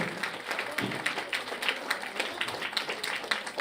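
Audience applause welcoming a woman onto the stage at a devotional stotram gathering in Pithapuram, a steady wash of many hands clapping at moderate distance with some crowd murmur.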